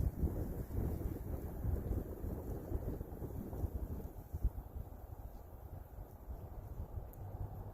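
Wind buffets the microphone outdoors on a winter catfish fishing outing, a steady low rumbling roar with gusty swells and no voices.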